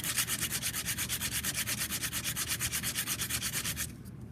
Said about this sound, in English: I can fold this if it makes it easier for me to do this, because the sandpaper kind of tends to fold over, and just sand the top.